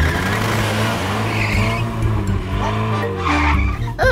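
A cartoon car arriving with loud screeching tires, a sustained engine roar and skidding squeal up close, ending in a sharp final screech.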